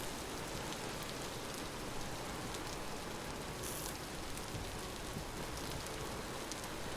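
Steady, faint video game rainfall patters continuously on a surface, an even hiss of drops with no other sounds.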